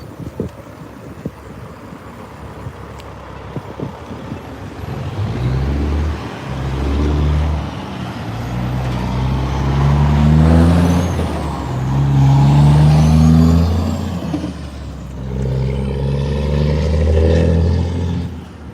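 An engine accelerates through the gears, its tone climbing, dropping at a shift and rising again over a long, loud stretch, with clicks and a hiss at the start.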